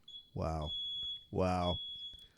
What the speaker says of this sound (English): That is the noise of a smoke detector.